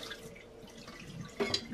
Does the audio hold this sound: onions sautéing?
no